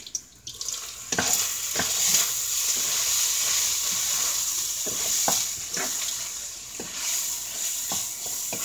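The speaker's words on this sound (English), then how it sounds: "I'll stir my meat here" Taco meat fries in a pan, a constant bright sizzle broken by several sharp scrapes and knocks of a utensil stirring it, close up and without speech.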